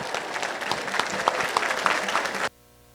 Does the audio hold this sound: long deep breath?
no